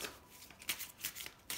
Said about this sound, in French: vous prenez votre jeu, vous allez battre les cartes